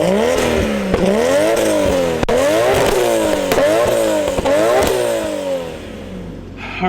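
A Nissan Skyline GT-R with an HKS turbo making 650 wheel horsepower revs repeatedly, the engine rising and falling in about five sharp, loud sweeps with clattering cracks between, then easing down near the end.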